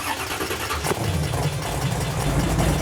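A monster ride truck's big engine cranks and catches, then settles into a loud, rough, steady idle up close.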